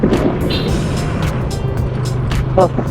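Motorbike on a hilly road in Bandarban with trees around, its engine rumbling steadily and close under wind noise throughout, with a brief voice near the end.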